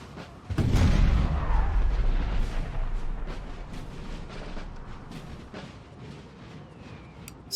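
Artillery fires in the Napoleon Total War video game: one heavy boom opens, followed by a rolling rumble and scattered distant cracks of gunfire across the battlefield.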